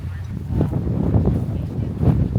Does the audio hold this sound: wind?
yes